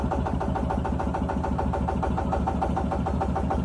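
A Yanmar YH150 rice threshing machine's engine running after starting, with a loud, close, rapid and even chugging beat that holds steady throughout.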